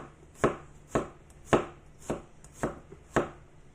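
Garlic being coarsely chopped with a knife, seven evenly spaced firm thuds on a cutting board about half a second apart, close and clear against a quiet background.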